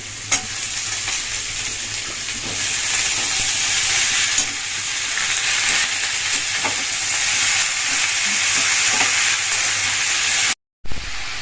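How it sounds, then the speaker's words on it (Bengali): Spices with salt and turmeric fry in a pan for a Bengali fish-head dish, giving a loud, steady, close sizzle with the faint scrape of stirring, cut by a brief gap near the end. "লবণ ভালো করে কষিয়ে নেবেন"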